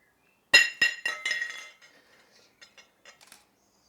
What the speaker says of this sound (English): So I'm going to stand up now and drop this and smash it